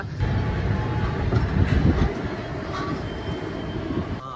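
A train stands at Vijayawada railway station waiting for engine shunting, giving off a steady low rumble throughout with faint mechanical hiss and no clear talk.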